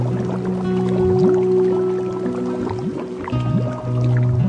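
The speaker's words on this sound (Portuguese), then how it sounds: "da terra saía uma corrente de água que regava o chão" Flowing water sound effect, a loud, continuous bubbling and gurgling stream with rising watery tones and no voices.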